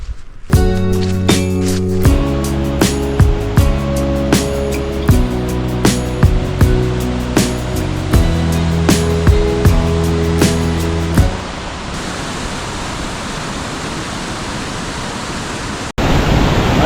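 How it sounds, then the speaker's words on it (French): A glacial meltwater torrent below Mont Pourri in the Alps rushes as a constant broadband roar, first under melodic music with steady beats, then alone and loud for the last few seconds. "Voilà un torrent qui vient directement de la fonte du glacier qui se trouve sous le mont Pourri là."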